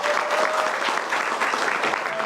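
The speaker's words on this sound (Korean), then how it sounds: "큰 박수로 마무리하도록 하겠습니다" A seated audience at a 2019 resident self-governance forum in Seoul breaks into sustained applause, a dense, steady wash of many hands clapping at once with no speech over it.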